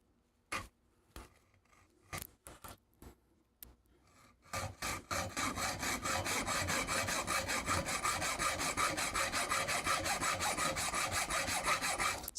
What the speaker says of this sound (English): Sometimes the hacksaw is just the easiest option, you know?